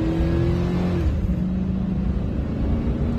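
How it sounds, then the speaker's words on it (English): A 2006 GMC Sierra pickup's 4.8-liter V8 with an upgraded throttle body is revved steadily. The engine note holds a low rumbling drone that rises, then eases and settles, loud and close with no talking. "Just gradually get into the throttle."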